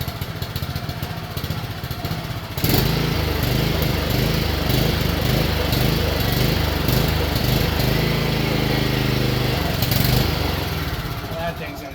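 A small gasoline engine on a Remington chainsaw kicks on after a quiet start and runs loud and close, chugging roughly in an uneven rhythm as it clears out, with some faint talk behind.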